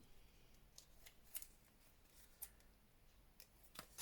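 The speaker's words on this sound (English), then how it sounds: "we can cut them straight down the middle, make them into two. Trim off that corner." Scissors snipping through paper tickets, a few quiet, sparse cuts spread out over a faint background, with a sharper snip at the very end.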